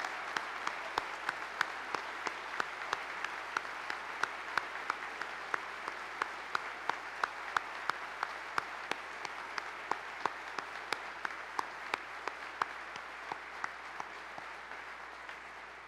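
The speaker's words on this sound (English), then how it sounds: "Let's give a round of applause" An audience applauds service representatives honoured at a ceremony, the steady clapping heard faintly and at a distance, with sharp individual claps standing out at regular intervals throughout.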